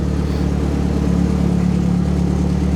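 A fully built Mitsubishi Evo X with a PT 6466 turbo, its engine idling and revving loud and close as the accelerator is pressed by hand with a stick, a steady throbbing drone with a rising tone.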